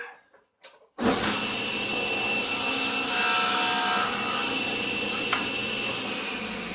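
A table saw blade rises into a large panel to cut a miter, starting abruptly after a second of faint handling and then holding a loud, steady, close grinding whine through the wood for several seconds.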